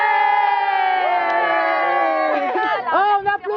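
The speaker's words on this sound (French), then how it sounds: "on applaudit là" A large crowd at a team game show cheers and shouts loudly after the yellow team's score is announced, voices blending into a sustained roar with excited whoops near the end.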